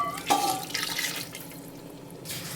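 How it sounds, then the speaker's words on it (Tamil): Water is poured into a biryani pot of seeded chicken and seeraga samba rice, giving a short close splash and a steady trickling stream that fades after about two seconds. "நம்ம இப்போது 600 ml தண்ணி ஊற்ற போகிறோம்."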